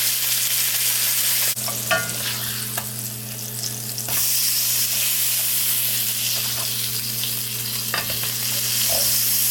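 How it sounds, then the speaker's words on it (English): Burger patties fry in a pan with a loud, continuous close-up sizzle, steady throughout, broken by a few brief clatters and scraping sounds of a utensil. "Alright, them burgers is cooking."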